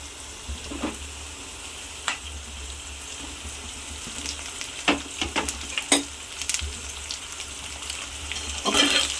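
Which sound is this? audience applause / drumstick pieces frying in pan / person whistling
drumstick pieces frying in pan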